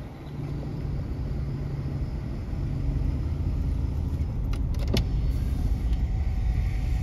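A group of cars drives past on a windy road near construction, a steady rumbling road noise that swells slightly, with a brief clatter near the end.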